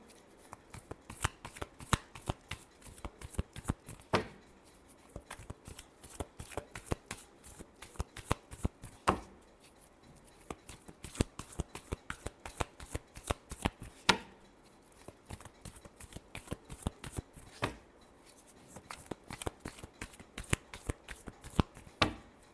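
Tarot cards being shuffled over and over, a steady run of quick riffling flutters and soft slaps close up, with a few sharper card snaps standing out and no voice over it.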